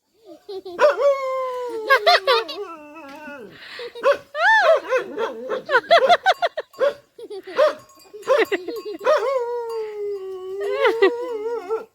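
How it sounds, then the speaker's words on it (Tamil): A neighbour's dog near a house during Diwali snack-making, yelping, whimpering and howling in repeated, drawn-out cries across the whole stretch, loud and close, with a few sharper bursts in between. "பக்கத்து வீட்டு நாய் தான் வந்து வந்து இங்கே விளாண்டுகிட்டு இருக்குது"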